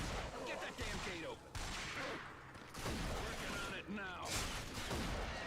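Gunfire in a video game during a speedrun at a live gaming event, with rapid bursts of shots under a dense, noisy mix while a commentator talks over it.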